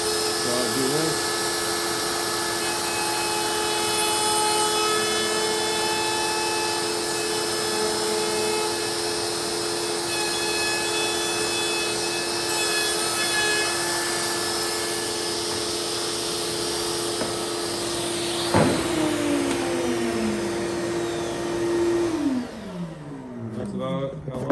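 A power tool cuts a handhold into an Alturnamat, a steady loud whine and roar running unbroken for over twenty seconds before a brief clunk and the motor winding down at the end.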